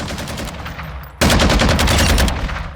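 Gunfire from a tactical weapon build in Call of Duty Modern Warfare II, with rapid sharp shots in a burst, a short pause, then a louder close burst of repeated cracks that tails off.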